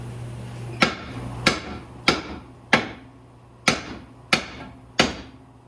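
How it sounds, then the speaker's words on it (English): Seven sharp metallic hammer blows on a 2005-2012 Ford Fusion steering knuckle ring out at a steady pace, each a hard close impact followed by a brief decaying ring. "Now we're going to smack that steering knuckle."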